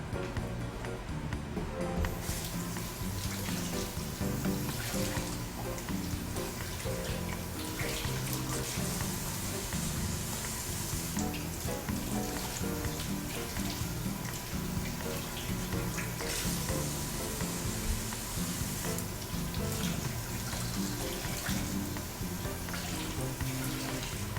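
Broccoli rinsed under a running kitchen tap, a continuous loud hiss of splashing water with small shifts as the florets move under the stream.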